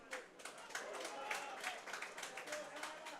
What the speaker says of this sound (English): Crowd clapping every time the Newcastle players make a tackle.